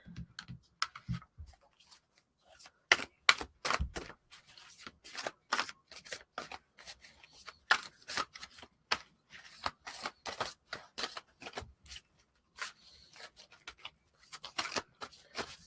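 A deck of fairy oracle cards is shuffled by hand in quick, crisp riffling bursts, close and quiet, with short pauses between runs.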